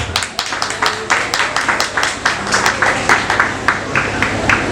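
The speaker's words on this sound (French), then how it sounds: "Applaudissez les futurs gradués, s'il vous plaît" Ceremony audience applauding future graduates during an address: a steady wash of crowd applause with distinct individual claps standing out, moderately loud and continuous throughout.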